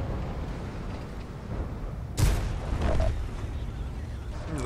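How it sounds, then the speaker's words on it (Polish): A tank cannon shot strikes an IS-3 heavy tank in the World of Tanks game, one sharp loud boom cutting through a steady rumbling battle background, with a voice talking faintly underneath. "Zobaczycie teraz fantastyczny strzał w dupkę Isa III."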